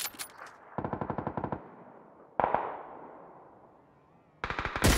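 Automatic rifle fire in the battle royale game PUBG comes as several rapid bursts of sharp, closely spaced shots separated by short pauses, loud and punchy against a quiet background.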